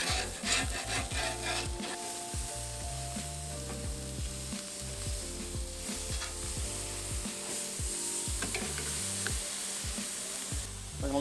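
Bonito fish cooking on a charcoal grill after being flipped, giving a steady, close sizzle that runs throughout with scattered crackles and a low tonal hum underneath.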